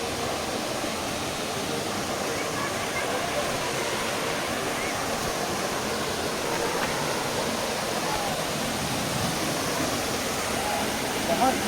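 Andhiyar Jhola waterfall pours in a steady, dense broadband roar of rushing water, close and constant throughout with no pauses.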